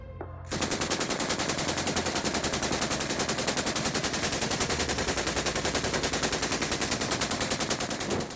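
Sustained machine gun fire rattles at a fast, steady rate for several seconds, loud and continuous after a brief quiet start, with no voices.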